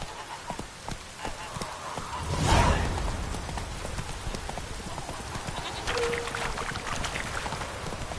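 Horse hooves clip-clopping in The Witcher video game, a steady rhythm of hoof beats under ambient game sound, with a louder swell partway through.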